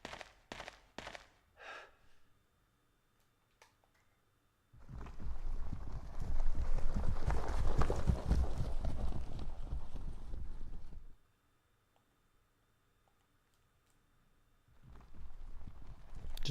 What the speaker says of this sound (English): Just sounds like horses galloping around.